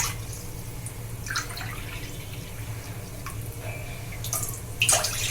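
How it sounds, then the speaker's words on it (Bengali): Two cups of water go into a pan on a gas stove in short splashing bursts over a steady background hum, ending in a louder splash. "দিয়ে দিচ্ছি এতে 2 কাপ জল"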